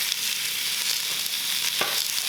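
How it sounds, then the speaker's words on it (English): Onion and lemongrass fry over high heat in a hot pan for Vietnamese chicken pho, giving a dense steady sizzle close by, with a brief stirring clink. "I can start to put the world's largest onion into pan"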